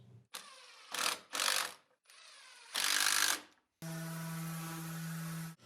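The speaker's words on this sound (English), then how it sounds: "The center screw is driven first, followed by the outer screws." Screws are driven into a wooden breadboard end fitted over a tenon, a power driver whirring in several short bursts, then one longer steady run, close by with no talk.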